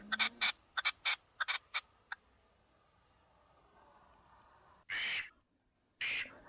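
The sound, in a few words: partridge call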